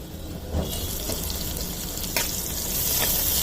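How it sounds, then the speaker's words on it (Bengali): Chopped onions sizzling in hot oil for a Hyderabadi egg curry, a steady frying hiss with a few soft pops and clatters, fairly close, no voices. "পেঁয়াজটা দিয়ে ভাজা ভাজা করে নেব"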